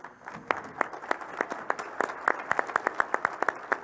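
A modest audience at a gubernatorial debate at the Blair County Convention Center in Altoona claps for the candidates, sparse distinct hand claps in an uneven rhythm over a soft background of more clapping.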